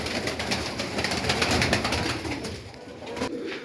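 Old pigeons coo close by in a loft, soft low repeated calls with a few wing flutters, steady throughout and fading slightly at the end, no speech.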